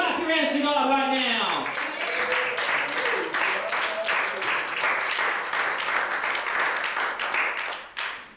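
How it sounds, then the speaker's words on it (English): A church congregation claps together at a revival service, dense sustained applause that swells right after a preacher's voice fades and continues steadily for several seconds before tapering at the end. "Clap your hands to God right now."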